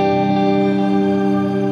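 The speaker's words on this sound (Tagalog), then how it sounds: "Yun yung delay tsaka mga reverb." An electric guitar runs through an HX Stomp modeler's delay and reverb, holding steady sustained chiming tones with a lingering echoed wash throughout.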